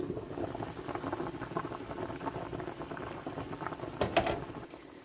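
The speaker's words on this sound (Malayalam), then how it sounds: "നമ്മുടെ കപ്പ ഇവിടെ ഇങ്ങനെ തിളച്ചുകൊണ്ടിരിക്കുകയാണ്." Pot of tapioca (kappa) at a steady rolling boil, a dense, even bubbling and popping that runs throughout, with a slightly louder burst of bubbles near the end.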